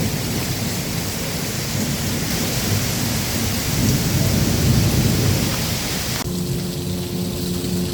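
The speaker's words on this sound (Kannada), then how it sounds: "ನೋಡ್ರಿ ಯಾವ ಪರಿ ಗುರು ಆಗ್ತೈತಿ." Heavy rain pours down during a thunderstorm in Kundapura, Karnataka, a loud dense wash of rainfall with a low rumble of thunder, steady throughout with no voices.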